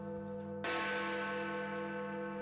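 Big Ben's great bell in London gives a single deep, resonant strike that rings out loudly, its rich tone sustaining and slowly decaying over a low hum.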